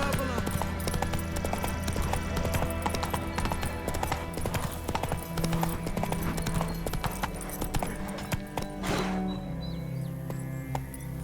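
Roach the horse gallops in The Witcher 3, hooves clip-clopping in a fast, steady rhythm that runs throughout, with a change of pace near the end and a voice briefly heard.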